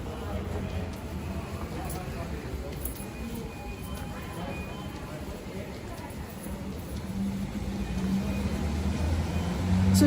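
Cars pass along an Inverness street in the evening, a steady wash of traffic noise mixed with a distant crowd murmur that grows louder toward the end.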